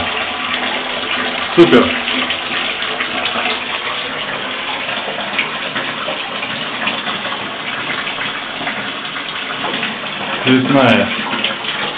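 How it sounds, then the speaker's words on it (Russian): Water gushes steadily from a tap in a home after its pipes were replaced, a loud, continuous rushing that fills the whole stretch, with brief bursts of speech over it. "Вот у вас течет вода из крана, да?"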